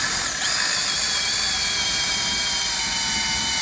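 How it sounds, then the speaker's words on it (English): A power drill bores a hole for a lag bolt while building a garden chair, giving a loud, close, continuous high-pitched whine that holds steady throughout. "we're just going to drill the hole right here."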